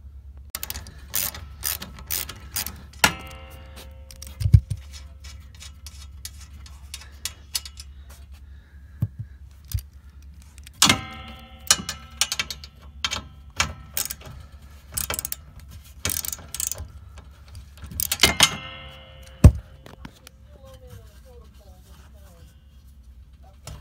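Ratchet wrench turning bolts out of a travel trailer RV couch frame, a quick repeated clicking in bursts with pauses and a few clunks, close by, with some talk in between.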